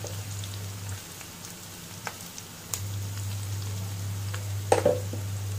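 Vegetables frying in a pan, a soft steady sizzle with occasional light pops and clinks, accompanied by a low constant hum from the stove.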